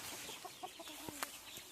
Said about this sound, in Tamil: கூட சேவனும் இருக்கார்.